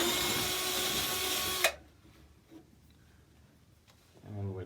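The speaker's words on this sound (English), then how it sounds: "So drill the next hole." A power drill whirs loudly as it bores a hole for a homemade cat scratcher, then cuts off abruptly, leaving quiet handling noises and a brief voice at the end.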